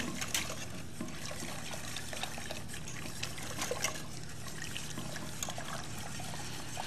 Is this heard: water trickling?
yes